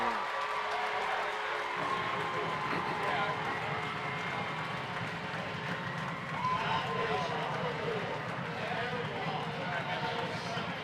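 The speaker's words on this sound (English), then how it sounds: "The crowd is going crazy here for Coatesville." A high school football crowd at a Coatesville game roars after a touchdown, with dense, steady cheering and shouting throughout and a faint announcer's voice underneath.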